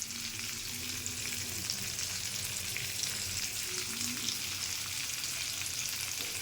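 Tengra fish frying in a pan with salt and turmeric gives a steady, dense sizzle that holds at an even loudness throughout, with no talking.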